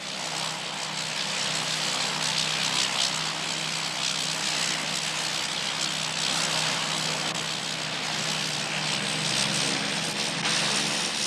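A small propeller airplane drones steadily and loudly throughout, its engine and propeller noise holding at an even level with no voices over it.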